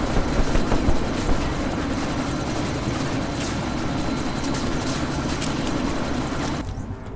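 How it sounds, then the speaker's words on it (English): Helicopter engine in the video game Deus Ex: Mankind Divided, a steady loud rotor and turbine roar filling the whole stretch, then cutting away abruptly near the end. "That chopper's about to take off."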